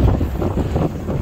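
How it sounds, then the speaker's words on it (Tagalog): Strong wind buffets the microphone at a scenic overlook above the sea near Mariveles, Bataan, giving a loud, continuous low rumble with gusting flutter throughout. "Lakas ng hangin."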